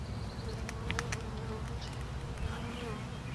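Bees buzz steadily close by while a nuc is installed into a hive, a dense droning hum with individual insects whizzing past the microphone.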